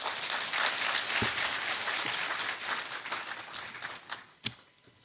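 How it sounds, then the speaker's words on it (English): Audience applause at a university matriculation ceremony: a dense, steady wash of many hands clapping that thins out toward the end, leaving a few scattered last claps. "Shall we receive them with a hand of applause?"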